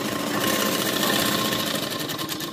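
An electric sewing machine runs steadily and close by, stitching a zip onto a lined boat-neck kurti, its motor whirring with a fine rapid needle rhythm throughout.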